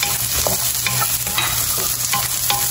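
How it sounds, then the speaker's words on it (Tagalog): Garlic and onion sauté in hot cooking oil while being stirred, a loud steady sizzle with scraping stir strokes, close and alone. "nagpainit na po ulit tayo ng mantika at igigisa na natin ang bawang at sibuyas."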